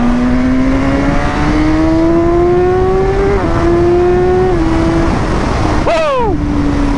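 BMW S1000RR sport bike engine on a dyno, a loud steady high drone that climbs gradually through the revs, eases briefly, then snaps sharply up and drops back to a sustained whine, with no talk.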